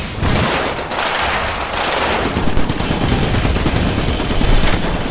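Loud, sustained automatic gunfire from the video game Iron Brigade, a dense, continuous rattle of rapid shots that keeps going without pause and sounds close and intense.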